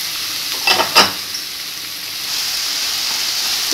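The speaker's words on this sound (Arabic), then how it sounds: "نديرو البصله ديالنا في الشحال، نديرو السكر ديالنا" Onion and sugar fry in a hot pan, opening with two quick utensil clinks before settling into a steady, close hiss of sizzling that carries through to the end, with no talking.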